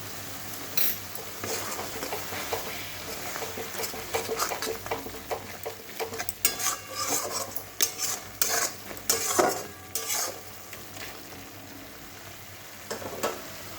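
A spoon scrapes and stirs spices frying in oil in a pan for ghugni, with steady sizzling and irregular metallic clinks and scrapes growing busier midway.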